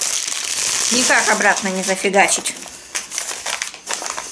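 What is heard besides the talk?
plastic bag crinkling as it is handled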